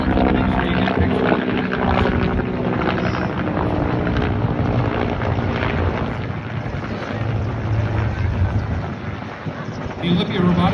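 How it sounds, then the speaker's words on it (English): UH-1 Huey helicopters passing overhead at an air show, a steady loud broadband rotor and engine roar filling the whole stretch, with faint voices now and then. "We're on the ground with some UH-1 and Hueys flying overhead."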